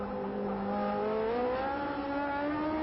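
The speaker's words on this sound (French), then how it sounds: "Là voici Fittipaldi dans le virage rosier." A 1972 Formula 1 race car at the French Grand Prix sweeps through a corner, its high engine note rising and falling with clear harmonic tones, heard alone at moderate distance.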